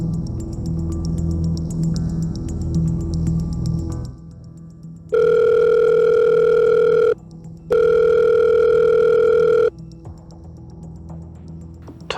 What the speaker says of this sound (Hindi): उठा क्यों नहीं रही है फोन ये?